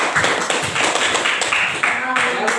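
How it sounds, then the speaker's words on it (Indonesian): A school class of ninth-graders claps together in a burst of applause, with a teacher's voice talking over the patter. "berikan tepuk tangan dulu"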